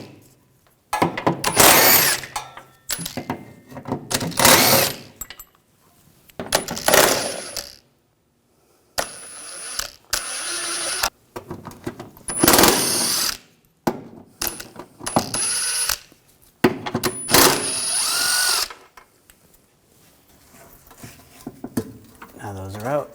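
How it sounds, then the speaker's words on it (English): Bolts on a 2007-2013 BMW X5 transmission pan being removed with a 16mm socket, giving bursts of metallic clinks, ratcheting and small parts dropping, separated by short quiet gaps, close and fairly loud. "And then we're going to take all these bolts out."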